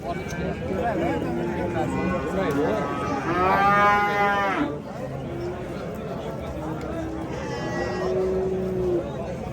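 Cattle and a heifer calf low loudly at a busy livestock market, one long rising moo up close followed later by another, with people talking and murmuring throughout.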